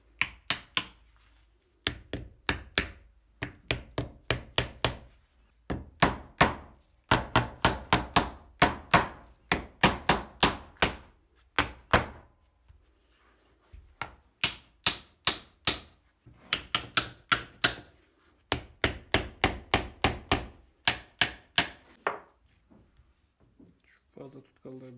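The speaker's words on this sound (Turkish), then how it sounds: "Hepsini taktıktan sonra sırayla çakacağım." Hammering nails into a handmade wooden picture frame, with quick bursts of sharp taps in runs of several blows, short pauses between runs, close and loud.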